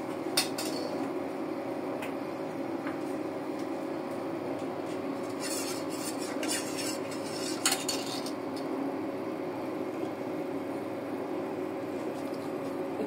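A spoon stirring and scraping in a pan of food thickened with cornflour, faint clinks and taps scattered over a steady hum of kitchen background, no talk.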